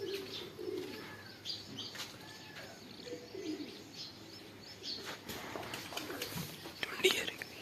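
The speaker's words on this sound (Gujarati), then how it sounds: "આપણા કબૂતર" Pigeons coo softly and flutter their wings nearby in the morning, faint and intermittent, with quiet voices talking underneath.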